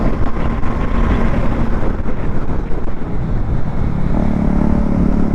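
Motorcycle running on a Sunday ride with its tank low on petrol, a steady engine rumble heavily buffeted by wind noise, continuous and fairly loud with no talk.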